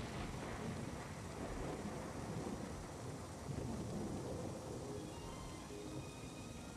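A thunderstorm with rolling thunder over steady rain, a dense continuous rumble and hiss with some wind buffeting, lasting throughout with no voices.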